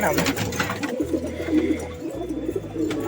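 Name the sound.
pigeons cooing in a loft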